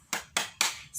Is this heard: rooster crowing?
no